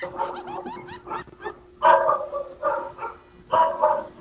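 A dog barking in several loud, close bursts, yappy and repeated with short pauses between.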